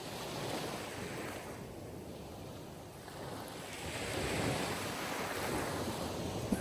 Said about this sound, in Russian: Звук легких волн,